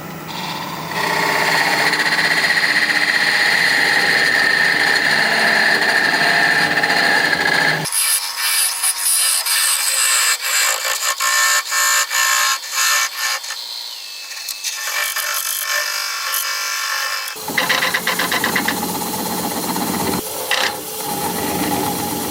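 A wooden vase turns on a wood lathe at about 500 to 600 RPM, with a steady whirring hum and scraping tool contact that shifts in tone partway through, loud and close.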